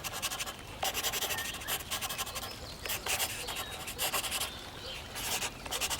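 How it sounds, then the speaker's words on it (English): Bold black marker outlining a children's drawing of a train, heard as continuous close scratchy rubbing strokes with short pauses between lines, steady and fairly loud. "Let's make it even better by outlining everything with a bold black marker."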